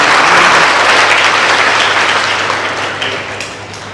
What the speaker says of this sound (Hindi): एक बार उस व्यक्ति के लिए तालियां होंगी